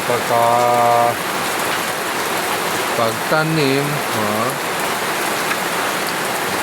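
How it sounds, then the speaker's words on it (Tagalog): Heavy rain pours steadily on a surface, a loud constant hiss, while a voice speaks briefly over it in Filipino. "Sigurado hanggang mamaya pa itong ulan na ito"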